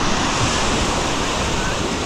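Sea waves wash onto Sarysu beach in Antalya, a steady, loud, close roar of surf with wind rushing across the microphone and no pause in the noise.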